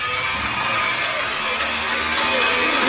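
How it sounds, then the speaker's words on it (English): A college baseball crowd at an NCAA regional game in Knoxville, a broad, sustained wash of applause and cheering from the stands, steady and fairly loud throughout. "Should be quite the round of applause"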